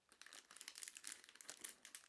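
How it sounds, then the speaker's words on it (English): Clear plastic bag packaging around a panettone crinkling and rustling in quick, uneven bursts, close but quiet, with no voices. "let's take the panettone out from its clear plastic bag packaging"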